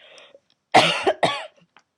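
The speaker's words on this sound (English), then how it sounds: "I'm going to cough again." Two harsh, close coughs in quick succession break a near-silent background, each a short rough burst.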